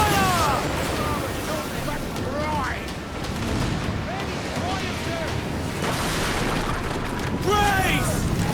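Ship cannons firing in Assassin's Creed Black Flag, booming blasts rolling over a constant roar of sea and battle noise, loud and continuous, with voices talking over it.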